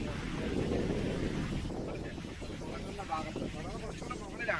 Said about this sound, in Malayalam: അത്യാവശ്യം കാറ്റുണ്ട്